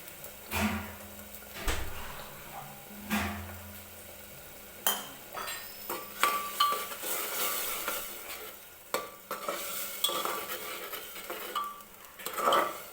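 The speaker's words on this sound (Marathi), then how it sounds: "टोमॅटोची प्युरी टाकल्यानंतर मी व्यवस्थित ही प्युरी तेलामध्ये सुरुवातीला भाजून घेते" Tomato purée sizzles and fries steadily in oil while a utensil scrapes and clinks against the pan in repeated stirring strokes, close up.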